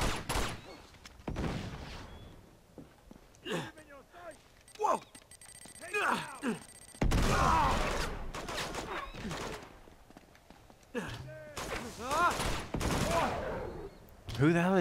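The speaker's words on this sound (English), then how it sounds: "Who the hell is shooting that gun?" Gunfire from the video game Uncharted 2: Among Thieves, scattered shots and a dense burst of rapid fire midway, mixed under frequent talking.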